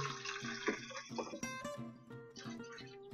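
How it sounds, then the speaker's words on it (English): Water pours steadily into the reservoir of a Keurig coffee maker, a continuous close splashing and bubbling stream that shifts in tone as the tank fills, with no talking. "And so we're filling it with water"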